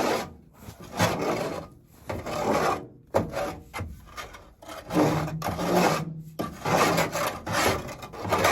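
Steady rough scraping of manure off stall surfaces in a barn, loud and close, in repeated long strokes with brief pauses between passes.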